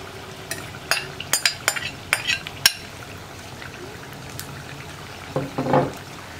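A spoon stirs cooked green gram into a simmering banana stem curry in a pot, giving several sharp scraping clicks in the first three seconds, then a short burst of stirring and bubbling near the end.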